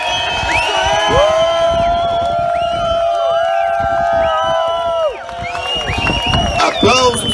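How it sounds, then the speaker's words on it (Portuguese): A crowd at a sailing regatta award ceremony claps and cheers, a loud, sustained roar with whoops, shouts and whistles layered on top. "Aplausos e mais aplausos!"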